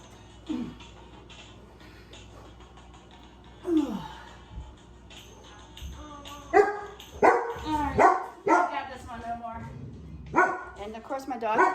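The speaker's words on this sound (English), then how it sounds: "my dog is barking." A dog barks indoors, starting with a few sparse woofs and building into a run of rapid, loud, close barks and yips, with a person talking over them.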